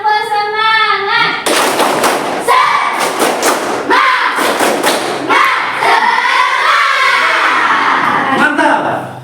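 Schoolchildren in a classroom doing a rhythmic spirit clap, with loud bursts of clapping and thumps mixed with children's shouting voices, following a short opening tone.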